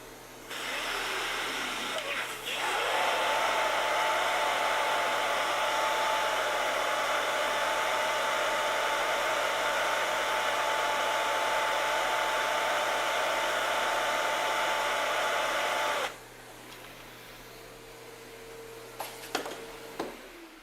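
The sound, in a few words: vacuum cleaner running suction test through 20-foot hose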